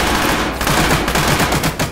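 Sustained automatic gunfire from the ArmA 3 video game, during a large-scale co-op mission, dense rapid bursts loud and continuous throughout the short stretch.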